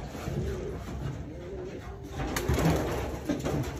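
Low cooing from racing pigeons, including a blue bar pigeon, sounds close by, a few soft calls over a light steady background hum.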